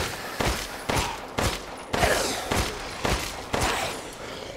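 Rapid gunfire in Resident Evil Village, a string of about eight sharp shots at a steady, slightly uneven rhythm, loud and close with no talk over it.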